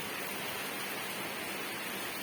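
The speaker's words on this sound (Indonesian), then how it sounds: "Ya hujan gerimis aja." Light drizzling rain falls in a steady, soft hiss that stays even and continuous, with no talk over it.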